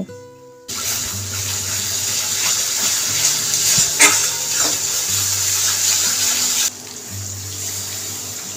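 Water poured into a pan of mustard hilsa curry, a steady rushing splash that fills most of the stretch at close range and then eases off to a quieter simmer.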